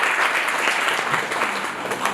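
Audience applause at a personality development seminar at an institute of technology, welcoming a guest speaker to the stage: steady, dense clapping from a crowd, loud and continuous throughout.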